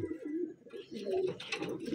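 Wantai pigeons coo up close in low, throaty, rolling calls, with a few brighter rustling and chirping sounds mixed in and a voice faintly present underneath.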